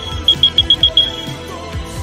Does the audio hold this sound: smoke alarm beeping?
yes